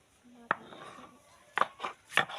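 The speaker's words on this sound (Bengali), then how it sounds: "এখন ধনেপাতা বাটা হচ্ছে পাটায়" Coriander leaves are ground on a grinding stone (pata) in a few rough, scraping strokes, quiet and close, with short gaps between them.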